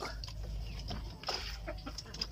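Native chickens clucking softly in short, scattered calls over a steady low background hum, moderately close.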